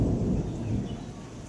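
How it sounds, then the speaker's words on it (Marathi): Thunder rolls low and heavy during an unseasonal rainstorm in rural Maharashtra, a deep, sustained rumble that swells and slowly fades. "गरडते बघा तिकडं"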